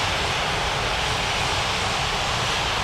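Airliner jet engines roar steadily during a takeoff run down a runway in a 3D flight simulator game, a loud, unbroken broadband rumble with no pauses.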